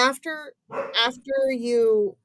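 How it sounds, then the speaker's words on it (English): A dog named Diesel barks and yips in short bursts close by, mixed with a voice talking indoors. "Diesel, what are you barking at"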